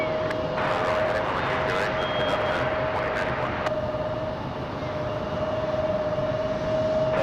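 United 2091, an airliner taking off from runway 23 right at Raleigh-Durham International at night, gives a steady, loud jet engine roar that holds throughout with a sustained tonal whine.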